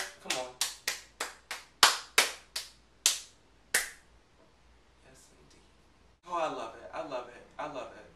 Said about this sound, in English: can we clap for Ciara?